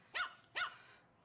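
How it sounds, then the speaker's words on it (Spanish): A dog lets out two sharp barks about half a second apart, moderately near and clear against a quiet background. "Sonó como un ladrido."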